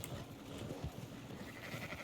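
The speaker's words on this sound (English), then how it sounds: "I wonder if we can grab us a sheep" Sheep bleating in the Red Dead Redemption 2 video game, a few soft, wavering bleats over a low, quiet ambient background with no talk.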